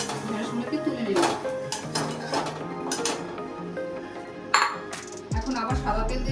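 Okra tipped into a bowl while cooking dahi bhindi, with a few sharp clinks and scrapes of dishes and a spoon, close by and clear over a soft kitchen background, a louder clatter near the end.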